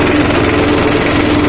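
An Isuzu Panther diesel engine idles with its radiator cap open, a loud, steady, even chug heard close up, alone, without speech.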